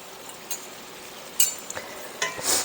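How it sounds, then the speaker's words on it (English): Onions cooking down in a frying pan for burgers are stirred with a utensil: soft scrapes and a few light clinks over a quiet, steady sizzle. "we're going to stir our onions a little bit"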